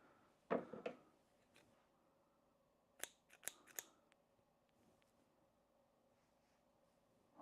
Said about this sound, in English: I think I ruined the scissors.